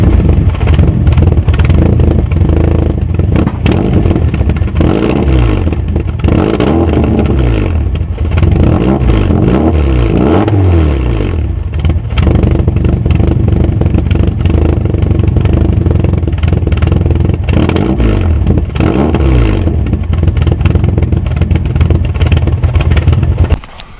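A 1985 VW Caddy mk1 engine cranks and starts, recorded right at the exhaust underneath, giving a loud, close, continuous rumble with clattering and uneven revving throughout before cutting off abruptly at the end.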